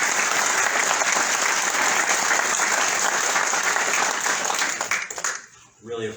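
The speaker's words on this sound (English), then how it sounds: "I just want to ask for a round of applause for our veterans" A large audience applauds veterans in dense, steady clapping that fills most of the stretch, then fades as a speaker's voice comes in at the end.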